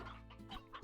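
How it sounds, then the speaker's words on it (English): Chicken clucking in the video game Slime Rancher, a few quick, close clucks in a short burst with no talk over them. "Besides saving this chicken."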